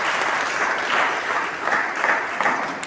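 A church congregation claps in praise during a Swahili sermon, a steady wash of many hands heard close and moderately loud that lasts the whole moment.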